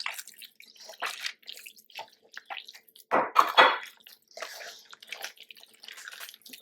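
Wet bread dough for vegan pao is squished by hand, giving irregular sticky squelches and smacks, close and intermittent, with a louder burst of squishing midway.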